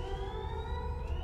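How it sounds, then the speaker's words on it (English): A steady, droning alarm siren aboard a spacecraft in the sci-fi game Event[0], heard as a sustained wailing tone over a low mechanical hum. "Central alarm went off and red lights blinded you."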